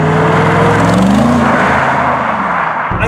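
A Mercedes SLR gives a loud, close engine rumble that rises in pitch and then eases off over a few seconds, a deep throaty roar with no voices over it.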